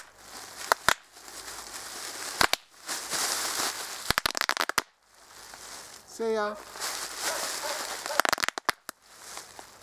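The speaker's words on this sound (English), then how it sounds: "Fireworks." Fireworks go off outdoors as sharp crackling bursts and pops arriving in irregular clusters, with a brief whistling rise in the middle and a person speaking briefly in between.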